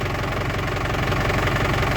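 An Isuzu Crosswind Sportivo engine runs at a steady idle, its rhythmic mechanical knock and low vibration close and continuous throughout, with no voices.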